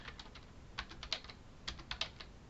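Someone types a short command on a computer keyboard, a sparse run of soft, quiet key clicks in small irregular bursts.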